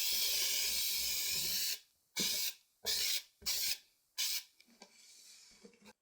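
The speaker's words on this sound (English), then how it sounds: "So I'm just gonna spray." A steady spray hiss runs continuously, then breaks into four or five short bursts of aerosol spraying with silent gaps between, close to the microphone.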